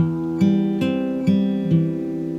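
An acoustic guitar is fingerpicked close up, one string at a time, including the sixth string, with four even plucks ringing together into a full chord.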